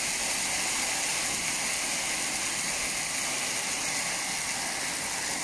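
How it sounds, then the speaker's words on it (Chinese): Hail falls at night in California, a dense, unbroken hiss of pattering impacts that stays steady and fairly loud throughout. "冰雹啊，全部下的冰雹，"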